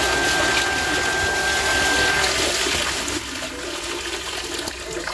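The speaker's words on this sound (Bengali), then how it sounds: "আর এই যে বালতিতে জল তুলে নিচ্ছি।" Water gushes from a tap into a bucket with a steady rushing splash that softens and thins slightly toward the end.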